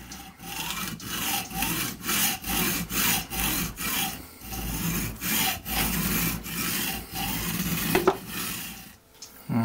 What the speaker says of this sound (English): Now I am the proud owner of the world's dullest hacksaw blade.